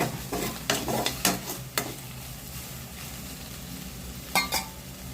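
Radish and vegetables for sambar sizzle softly in a hot pan while a spoon scrapes and clinks against it in occasional stirring strokes.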